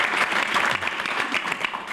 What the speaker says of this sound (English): so I just want to give a round of applause.